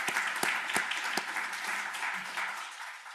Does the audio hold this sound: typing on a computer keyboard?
no